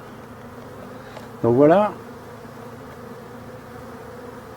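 An Asian hornet near beehives gives a single brief, loud buzzing pass lasting about half a second, rising and falling in pitch over a quiet background hum, with a few words spoken faintly.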